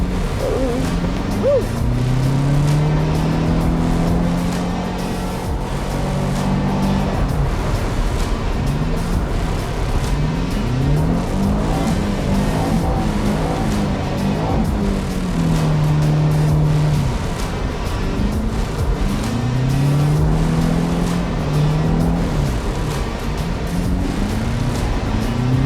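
A car drives and drifts on snow and ice in Québec, its engine droning steadily close by with repeated revving swells and falling pitch sweeps as the throttle rises and eases, with occasional talk underneath.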